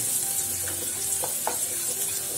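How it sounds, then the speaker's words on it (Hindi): Steady, close frying sizzle fills a pan, with a few light stirring taps and scrapes over the hiss, no voices. "अच्छे से रेड होने तक फ्राई करना है"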